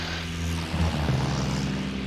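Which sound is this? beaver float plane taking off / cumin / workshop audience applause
beaver float plane taking off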